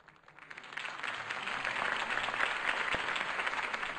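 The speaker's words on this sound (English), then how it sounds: "If only Mr. Wayne, my campaign's largest backer, could have heard that applause" Crowd applause after a campaign speech in a Batman Telltale video game scene, a fairly quiet steady wash of clapping that swells in over the first second and holds, with no talking.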